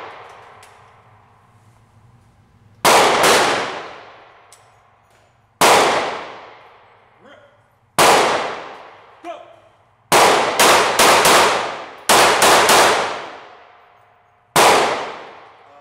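Handgun rounds are fired at shooting targets, giving loud, sharp, close reports with ringing decay. Single shots and quick groups are spaced across the stretch.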